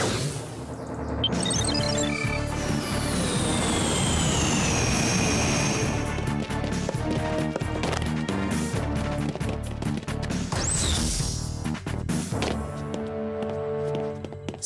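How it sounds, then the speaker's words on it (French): A cartoon jet aircraft roars past in a loud, sustained whoosh with a falling whine, layered over dramatic action music and ending in crash-like impacts. "Je vous envoie un jet."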